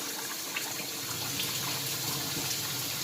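Rice is washed by hand in a basin of water, giving a continuous close splashing and swishing rush that stays steady and fairly loud throughout, with no talking.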